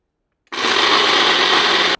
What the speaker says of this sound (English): This blender by Ninja has been absolutely fantastic.